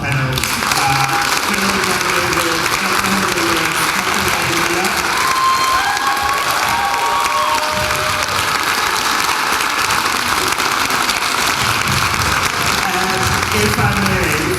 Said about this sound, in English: A round of applause, please, for our panel.